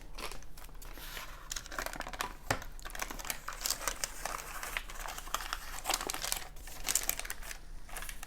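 Crinkling plastic wrapper being pulled open on a Boho organic milk chocolate bar with potato chips, a steady run of close, dry rustling and crackling bursts with no talk.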